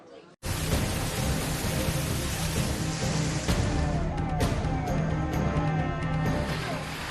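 Heavy monsoon downpour during record-breaking rain and flooding in Chiplun, Maharashtra, a dense, constant roar that starts abruptly and stays loud, with brief low rumbles and clatters, under a news narrator's voice.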